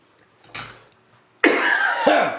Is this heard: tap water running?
no